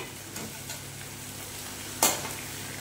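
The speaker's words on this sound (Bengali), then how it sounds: "আদা দিয়ে এই রসুন দিয়ে ভালো করে কষে নেব।" Onion, ginger and garlic stir-fry in a pan with a faint, steady sizzle, a few soft stirring scrapes and one sharp clatter near the end.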